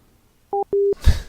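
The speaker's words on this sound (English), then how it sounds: "He hung up." A telephone call ends with a few short electronic tones: two brief beeps, then a longer steady tone, followed by a short clattering thud like a handset being set down, all close and clear with no talking.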